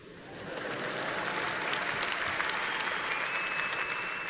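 Audience applause at a Northeastern University commencement ceremony in 2015; a broad, fairly distant crowd of clapping that swells in over the first second and holds steady, with a faint whistle near the end.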